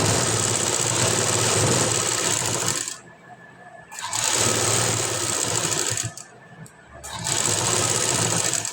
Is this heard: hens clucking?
no